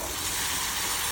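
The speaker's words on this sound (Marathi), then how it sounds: "गोबीला छान भाजायचं" Cauliflower being stir-fried in a kadhai, a steady broadband hiss of sizzling oil that stays even and close throughout, with no voices.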